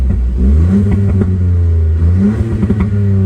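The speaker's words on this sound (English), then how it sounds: "put it into sport mode, listen to what a difference it makes on the exhaust." A Ford Fiesta ST3 exhaust revs up loudly in sport mode, rising and falling in pitch twice with a deep throaty rumble and a few crackles, close by with no talking.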